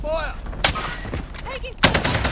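Gunfire rings out in the Warzone video game, sharp loud shots in two separated bursts, with game effects and brief radio-style chatter between them.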